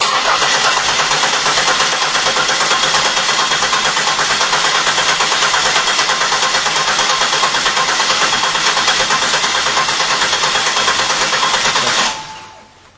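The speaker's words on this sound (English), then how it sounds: "crank it for like 10 to 15 seconds here" A car engine cranks continuously after an intake manifold gasket job, a steady loud buzzing starter whir that runs for about twelve seconds without catching, then cuts off abruptly.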